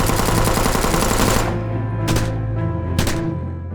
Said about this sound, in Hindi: तभी अचानक चारों तरफ से अंधाधुन फायरिंग शुरू हो गई।